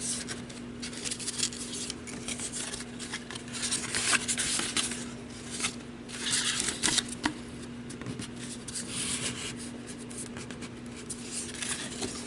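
A bone folder creases a paper candy box made on a punch board, producing quiet irregular rubbing and scraping strokes in short bursts, close and soft.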